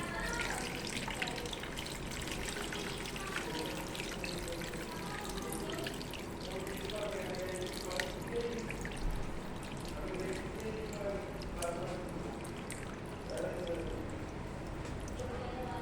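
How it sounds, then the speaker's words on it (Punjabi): Paneer whey water pouring steadily through a strainer, a continuous splashing trickle with drips, as someone talks over it throughout. "ਆਪਾਂ ਬਸ ਇਹ ਪਾਣੀ ਪਾਉਣ ਲਾਂਗੇ ਠੀਕ ਹੈ ਜੀ ਛਾਣਨੀ ਰਹੇ"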